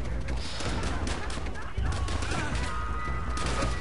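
Bursts of gunfire from the Call of Duty: World at War video game, with rapid shots and distant fusillades in an ongoing battle, moderately loud and continuous.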